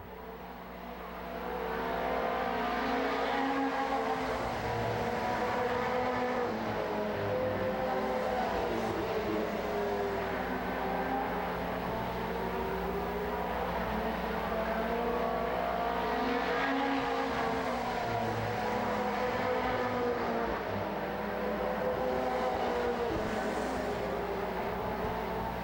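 Pro-4 Modified race cars roar around a speedway during the main event, engines revving in a loud, continuous drone that swells and fades as the pack passes, with no talk.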